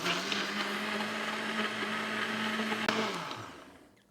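A blender grinds a water-based drink mixture in a steady, loud, continuous whir that holds for about three seconds, then spins down and fades as the motor stops.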